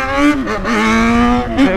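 A Jaguar XJ engine revs loudly and close by in a street, rising and falling in three strong pulls over a steady roaring drone, with no voices heard.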